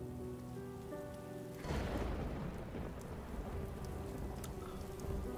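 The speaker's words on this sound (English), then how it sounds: "Now it's raining on just us." Rain pours down steadily in the animated series RWBY, a dense hiss of drops on surfaces that swells suddenly and continues loud and unbroken, with a faint rumble underneath.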